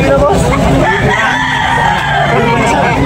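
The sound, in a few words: rooster (chicken) being sold at market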